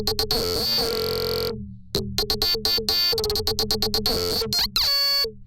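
A hybrid trap drop synth with phaser effects fires in a random, sporadic rhythmic pattern. Dense, distorted, buzzy stabs are chopped by abrupt gaps and stutters, loud and up front.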